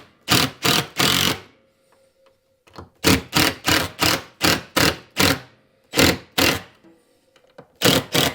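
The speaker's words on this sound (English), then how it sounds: "Let's get the screw gun. We'll tighten the screws to the wall." A screw gun drives screws into a shop wall while air lines are hung, giving a steady series of short, loud, evenly spaced bursts in groups with brief pauses between them, close by and with no talk.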